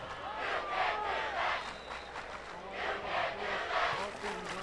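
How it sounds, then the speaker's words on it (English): Crowd noise at a night high school football game with the Tigers playing, a mid-distance roar of voices and shouting that swells and dips in waves across the stands. "Crowd in full force tonight."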